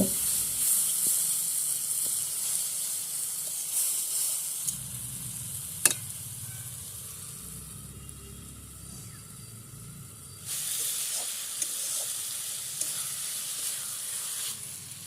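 Tomato, eggplant and cauliflower fish curry sizzles steadily in a pan while being stirred, a continuous close frying hiss with occasional scraping clicks, quieter in the middle and louder again toward the end, with no talking.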